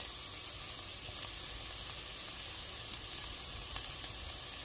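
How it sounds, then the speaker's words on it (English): Onions fry in a pan with a soft, steady sizzle and faint crackles, fairly quiet and continuous, with a few small pops and no talking. "I'm gonna fry this for another like 3 to 5 minutes and then add meat"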